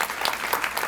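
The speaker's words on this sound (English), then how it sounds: "So collective round of applause for our students." A brief burst of audience applause for students at a research update event, dense clapping heard for about a second.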